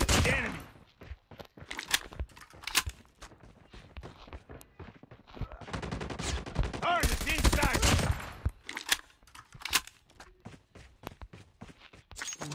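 M4 rifle fire in a Call of Duty match, with rapid bursts of gunshots scattered through the scene and one long sustained volley in the middle, loud and close.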